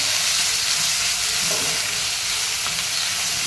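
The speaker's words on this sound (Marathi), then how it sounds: "कांदा छान आपण लालसर होईपर्यंत तळून घ्यायचं" Grated onion fries in hot oil with a dense, even sizzling hiss that holds steady throughout at close range, broken only by a couple of faint clinks; no voices.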